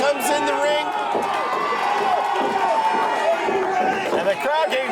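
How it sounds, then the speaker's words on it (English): A wrestling crowd roars and cheers steadily through the arena as a tag is made, loud and continuous crowd noise with no voice rising clearly above it. "And the crowd getting fired up behind him."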